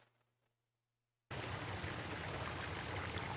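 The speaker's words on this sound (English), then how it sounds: "we just want like some waterfall sounds to come in" Ambient waterfall sound effect for music production cuts in abruptly after near silence, then holds as a loud, dense, continuous wash of rushing water.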